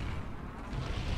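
A grenade detonates in the PC shooter Call of Duty: Black Ops, a brief, dense, low rumbling boom that fills the short moment with no talk over it.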